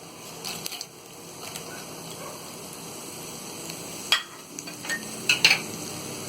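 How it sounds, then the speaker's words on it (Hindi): Mustard seeds, cumin, fennel and whole coriander sizzling in hot oil for aloo samosa filling, a steady hissing fry with light stirring scrapes and a few sharp clinks toward the end. "तेल गरम हो गया। अब हम इसमें ये राई डालेंगे, जीरा डालेंगे, सौंफ डालेंगे और ये साबुत धनिया डालेंगे।"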